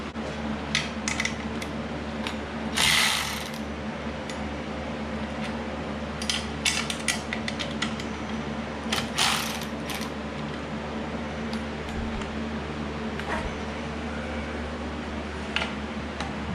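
A wrench works on the motor mounting bolts of a Jet metal band saw, giving intermittent metallic clicks, ratchets and scrapes over a steady low mechanical hum, with some louder clanks close by.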